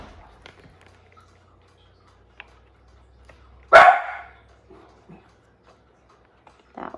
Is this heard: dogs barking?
yes